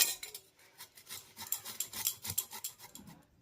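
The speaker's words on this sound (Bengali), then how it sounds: "এই বিটটাকে প্রথমে আমি একটু গ্রেট করে নেব" A small beetroot is rubbed against a grater in quick, rhythmic rasping strokes, about a dozen close, crisp scrapes with no voices.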